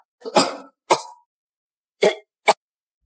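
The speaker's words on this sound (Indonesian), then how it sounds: "Jika dia batuk, itu berarti keadaannya semakin parah." Four separate coughs, two close together then a pause and two more, the last short and sharp; fairly near, with no talking.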